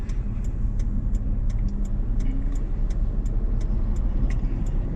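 Cars pass through a signalled intersection from both sides, a steady loud roar of engines and tyres with a faint regular ticking over it, and no voices.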